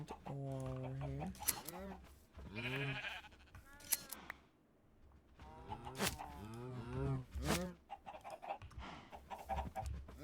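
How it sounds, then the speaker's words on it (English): Cows mooing in Minecraft with the Create mod, several drawn-out bovine moos close together, some overlapping, alongside clucking chickens in a quiet farm setting with no talk. "Now we're gonna let that breed up. Now we're gonna have 12 cows."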